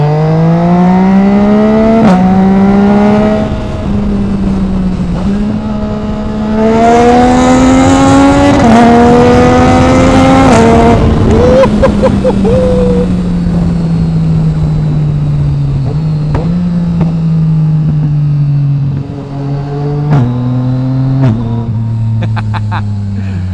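A naked motorcycle accelerates hard on an empty track, its engine note climbing through rising gears with brief dips at shifts, loud and close throughout.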